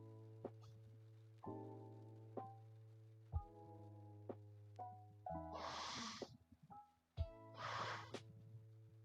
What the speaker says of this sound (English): Oh, I had to blow my nose.